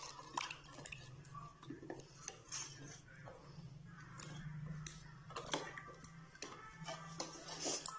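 Water, spices and ginger-garlic paste stirred together in a small metal bowl for an egg chingari recipe, giving repeated light clinks and scrapes of a spoon against the dish at close range, fairly quiet throughout.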